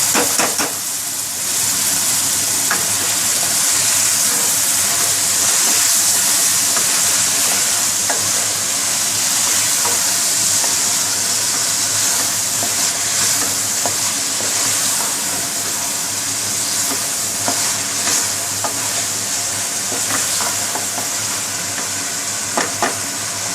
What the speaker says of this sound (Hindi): इनको भूनने के बाद शिमला मिर्च इसमें डाल दें और इनको अच्छे से मिक्स कर लें।